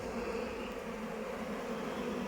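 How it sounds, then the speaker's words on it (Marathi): A swarm of honeybees buzzes around a hive box in a farm field, their queen missing, making a constant, even hum that stays moderately faint from start to finish. "बघा इकडं कशी झुंबड लागल माश्यांची"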